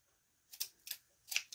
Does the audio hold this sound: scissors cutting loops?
yes